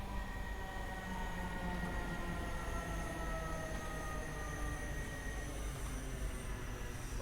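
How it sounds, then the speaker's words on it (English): A train passes on the Cathcart Circle route in Train Sim World 2, a continuous close rumble of wheels on rail with steady tonal whine and hum throughout, and no voices. "There's a train coming the other direction as we lock our doors."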